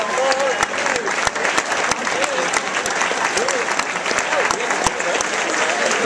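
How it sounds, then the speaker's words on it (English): Steady, loud applause from a crowd at a national cross-country championship awards ceremony, as the top 15 finishers are honored; dense clapping runs unbroken, with scattered voices underneath. "Let's give your top 15 finishers a nice round of applause."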